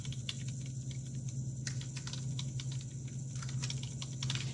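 Steady, rapid clicking of keys on a computer keyboard, close and continuous over a low background hum, with no talking.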